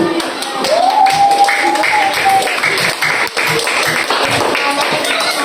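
Audience applause during a school talk on fighting corruption, a dense steady patter of clapping from a room of students, with a voice speaking over it in the first half.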